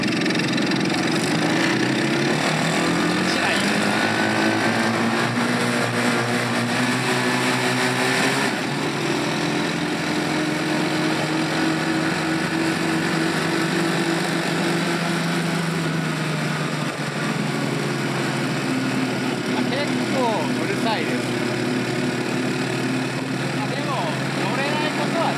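A Nextcruiser single-seat mini jeep, a small registrable microcar, runs steadily while being ridden, its light high-pitched engine droning continuously with shifting pitch, and a voice speaks now and then over it.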